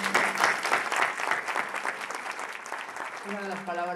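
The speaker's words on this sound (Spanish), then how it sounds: "para vosotros un fuerte aplauso" An audience at a Partido Popular event in Teulada-Moraira bursts into loud, sustained applause, a dense clatter of many hands that eases slightly toward the end as a voice begins speaking over it.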